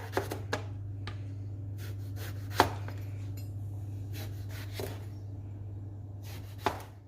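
A knife slicing aubergine into thin slices on a board, a handful of sharp, separate cutting knocks spread out at an unhurried pace over a steady low hum, close up with no talking.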